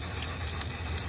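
A can of hair-spray paint sprays in a steady, continuous hiss, loud and close, with no voices over it.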